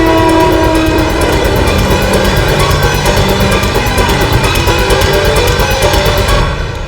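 A train runs past at close range in a crime drama scene, a loud steady rumble and clatter of wagons with a sustained horn tone early on, fading out at the very end.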